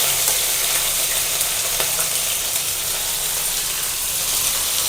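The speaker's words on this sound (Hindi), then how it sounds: "कटा हुआ कैप्सिकम, हरी मिर्च पहले डाल देते हैं, कड़ी पत्ता" Chopped capsicum, green chili and curry leaves sizzle steadily in hot oil for a poha kachori filling, a dense, even frying hiss that stays loud and unbroken throughout with no voices.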